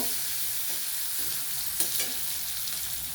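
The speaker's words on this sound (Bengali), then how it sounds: "যতক্ষণ না পেঁয়াজটা একটু লালচে রঙের ভাজা হচ্ছে ততক্ষণ আমি একটু ভেজে নেব" Onion with salt sizzling in a pan as it browns, a continuous close hiss with faint stirring taps now and then.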